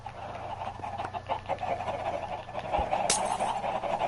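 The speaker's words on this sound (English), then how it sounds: "Get just a stupid amount of chickens in there," A crowd of Minecraft chickens clucks and chatters in a dense, continuous layer, with one sharp click near the end, no speech.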